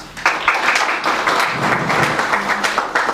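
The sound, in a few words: audience applause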